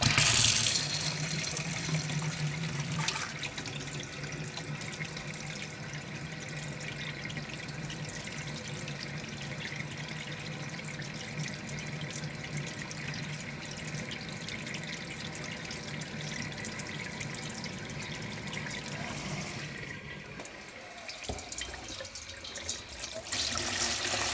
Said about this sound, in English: what I can do to get this rinsed, I shall cheat slightly and use warm water.